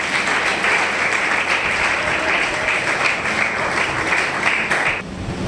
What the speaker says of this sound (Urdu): تو آئیں پھر زوردار تالیاں بجائیں